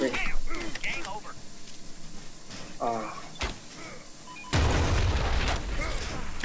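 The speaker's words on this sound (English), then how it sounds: "somebody put a C4 in the middle. The explosion." A C4 charge explodes in the video game The Culling: a sudden loud blast with a rumbling, crackling tail follows several seconds of voices talking.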